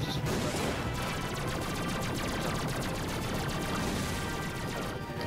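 Continuous dense shooting in the PS4 Ratchet and Clank game rattles on at steady high volume for the whole stretch, thick and unbroken, with no talk standing out.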